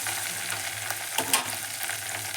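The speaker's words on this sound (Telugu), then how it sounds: "పచ్చిమిర్చి, కాస్త కరివేపాకు, మంచిగా వేయించుకున్నాం" Green chillies and curry leaves frying in hot oil, a constant close crackling sizzle with a brief stir partway through, no voices.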